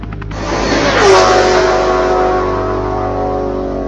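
An Audi Rennsport car engine revs up loudly, its pitch climbing in one strong sweep and then holding at a high, sustained drone.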